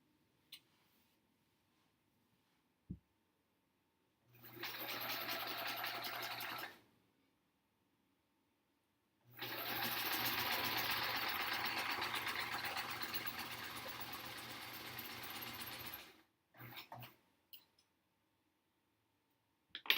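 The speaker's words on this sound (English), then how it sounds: "So let's sew these two together." A home sewing machine stitching quilt pieces together runs in two steady whirring bursts, a short one and then a longer one, with faint clicks and handling noises in the quiet gaps between.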